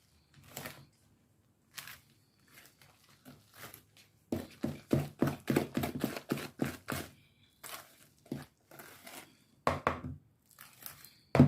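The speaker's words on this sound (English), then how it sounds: "So now I'm going to be stirring it up." Flour being stirred into banana bread batter by hand, heard as a series of close, soft thuds and scraping clicks of a spoon against the bowl, irregular at first and then in a quicker steady rhythm.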